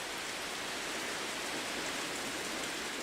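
Rain falls in the Everglades in a dense, steady hiss of countless drops, with even, unbroken intensity and no voices.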